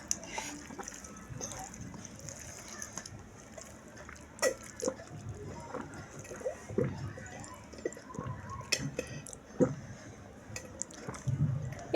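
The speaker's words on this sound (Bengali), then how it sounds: "এত জোরে পানি খায় মানুষ নে" A person gulps water noisily, with irregular wet slurps, squishes and drips scattered over a quiet room, some louder bursts near the end.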